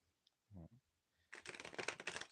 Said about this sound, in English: Supposed to shuffle it one more time